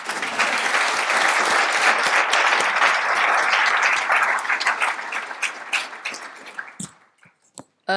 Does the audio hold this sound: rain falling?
no